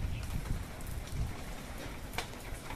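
Typhoon Uwan rain falls as a steady, soft hiss of drops spread across the whole clip, fairly faint and even, with no voices.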